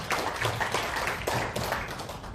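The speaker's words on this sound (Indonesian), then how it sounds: "Tepuk tangan bagi Tuhan." A church congregation claps together in a steady, rhythmic beat, loud and full, each clap merging into a broad crowd pulse.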